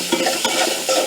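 Chili, turmeric and coriander powders being stirred in mustard oil in a pan for mutton curry, giving a short burst of scraping, stirring strokes over a soft sizzle, close and fairly loud.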